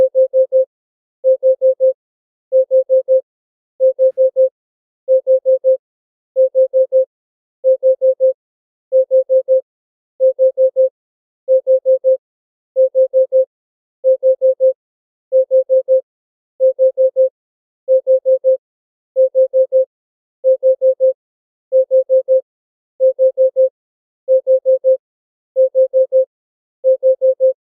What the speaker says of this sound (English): So That was definitely my Bitcoin alert.